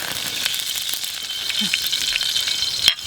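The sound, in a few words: oil sizzling in a camping pan on a campfire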